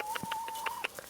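Chickens cluck in short repeated bursts while being herded into their coop, with a steady thin tone running underneath for most of the moment.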